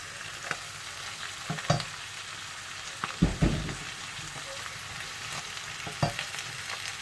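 Green beans are added to a frying pan and stirred, making a soft continuous sizzle with several sharper scrapes and bumps of the utensil, a louder clatter near the middle, and no voices.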